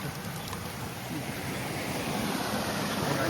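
Continuous roaring rush of a waterfall on a stream in the Konkan, broad and steady, building slightly louder toward the end, with no voices.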